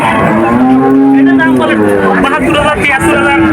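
A cow at the Pohordanga cattle market in Narail bellows a long, loud moo up close, with a second call near the end, while someone talks over the market babble.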